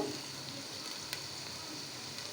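Cardamom pods and three or four cloves fry in hot oil for a beef and potato curry, giving a steady, even sizzle with faint crackles, fairly quiet and close, with no talking.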